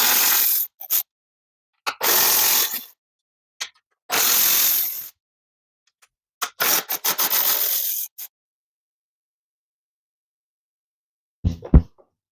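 Half-inch bolts come off the inner fairing of a 2024 Harley-Davidson Road Glide with a ratchet, giving several close, rasping clicking bursts separated by silences, followed by a short clatter at the end.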